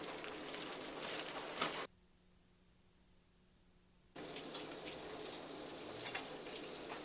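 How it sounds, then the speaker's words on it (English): Bluegill fillets fry in hot oil with a steady crackling sizzle, cut off by a couple of seconds of near silence before the frying resumes at the same level. "Cook it up nice and crisp in that hot oil."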